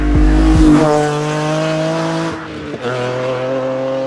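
A BMW E46 M3 engine revs loudly up close, its harsh exhaust note dropping in pitch, then settling to a lower steady drone.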